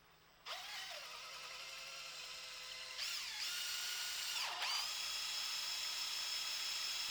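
A power drill whines loudly at high speed, briefly bogging down and revving back up twice as it bites into wood while building an outdoor movie theater.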